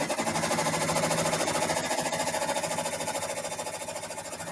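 A multi-needle long-arm quilting machine stitches at close range with a fast, steady mechanical chatter and hum that runs unbroken throughout.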